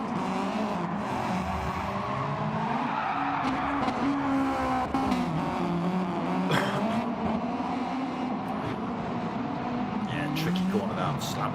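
RC race cars whine and buzz continuously around a track at a club birthday race meeting, with motors rising and falling and occasional tyre skids. An excited commentator talks over the racing.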